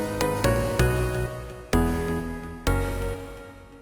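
A dry synth bass preset called Castle from Vandalism Sounds, heard without effects, plays a few quick stabs and then two longer sustained notes, bright and buzzy with sharp attacks, alone and without voices.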